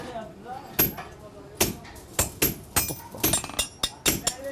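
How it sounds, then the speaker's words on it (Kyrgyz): Sharp, ringing hammer blows punch holes into a horseshoe, a dozen irregular strikes close by with short pauses between them, over a quiet background. "Така тешип атам."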